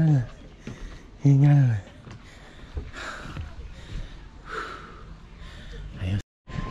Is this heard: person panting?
yes